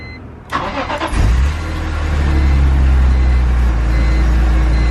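A BMW E46 M3 engine cranks briefly and catches, then settles into a loud, steady, rumbling idle close by.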